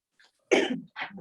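A single short, explosive sneeze close to the microphone during a council meeting, with a faint breath before it and a smaller burst after.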